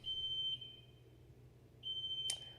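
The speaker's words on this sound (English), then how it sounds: "The building I'm in is doing some fire alarm testing, so that's what you hear there." A building fire alarm under test gives a high, piercing electronic tone that sounds for about half a second, stops, then returns and holds, heard indoors at moderate loudness with no talking.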